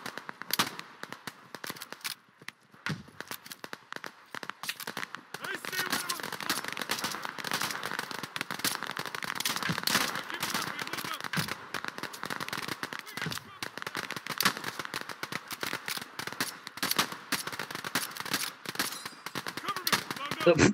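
Dense gunfire rattles through a World War II shooter video game, Operation: Harsh Doorstop, with rapid bursts and single cracks going on nearly nonstop, loud and fairly close, a voice occasionally talking over the shooting.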